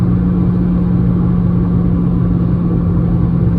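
A Mercedes C55 AMG with its M113 V8 and a six-speed manual cruises in sixth gear at low revs, giving a steady, continuous low engine drone and road rumble that stays even throughout, with no voices over it.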